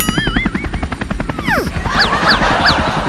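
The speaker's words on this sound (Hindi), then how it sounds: "मैं बोला था ना कि मुझे हेलीकॉप्टर उड़ाना आता है। देखो कितना बढ़िया उड़ा रहा हूँ।" A helicopter whirs with a pulsing rotor chop, joined by whooshing and sweeping tones that rise and fall, loud and close throughout.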